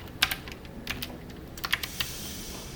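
A few distinct computer keyboard key presses, a keyboard shortcut pressed in the ZBrush 3D sculpting program, sharp close clicks spaced irregularly over a quiet room.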